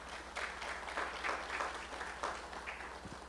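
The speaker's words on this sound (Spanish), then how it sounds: "démosles un fuerte aplauso también" Audience applause at a university launch event for a special edition of a magazine: faint, steady broadband clapping from a crowd, holding at an even level for a few seconds.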